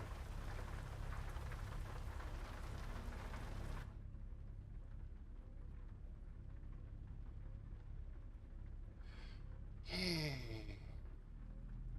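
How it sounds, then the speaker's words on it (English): Steady rain hissing in a trucking video game, a dense even wash for a few seconds that then drops to faint background patter, broken by a brief soft whoosh near the end; no voices. "And the rain."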